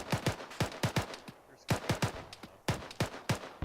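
Rapid gunfire crackles across a soccer field in bursts of sharp shots, loud and close, with brief pauses between volleys.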